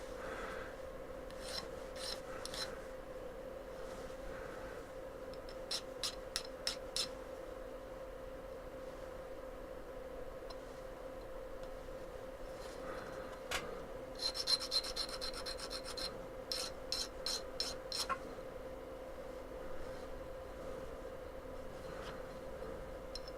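A hand file deburring a metal edge in a home workshop, producing bursts of scratchy rasping strokes in quick back-and-forth groups separated by pauses, close and fairly quiet over a steady background hum.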